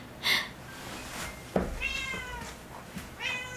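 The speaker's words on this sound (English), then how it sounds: "could you hear him meow just now?" A pet cat meows several times indoors, short close mews spaced across a few seconds with a soft thump in between and quiet room tone around them.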